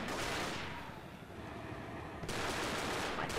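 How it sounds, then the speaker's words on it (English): Rapid gunfire from Left 4 Dead, a dense continuous rattle of shots that stays loud throughout with a slight dip in the middle, no voices. "I can shoot these guns pretty fast"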